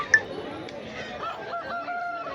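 An aseel rooster at the Erragadda Sunday market gives a short cluck or squawk, then faint fowl calls sit under the busy hum and chatter of the crowded market.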